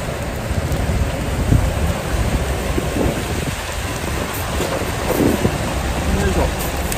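Heavy rain pours steadily outside a tractor-trailer truck cab during a heavy-rain warning, a dense, loud wash of drumming on the surface with a constant low rumble underneath.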